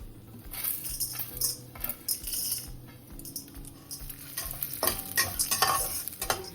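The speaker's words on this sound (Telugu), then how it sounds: "ఇప్పుడు ఈ నేతిలోనే మనం మినప్పప్పు శనగపప్పు కూడా వేసుకుందాము" Urad dal and chana dal fry in ghee in a pan, a soft continuous sizzle with spoon stirring and metallic scraping throughout, close and fairly quiet.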